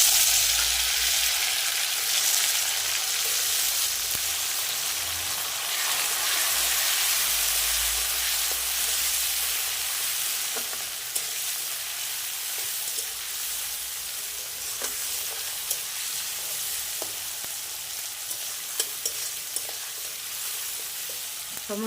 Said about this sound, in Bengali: টমেটোটা ভেজে নেব পুরা।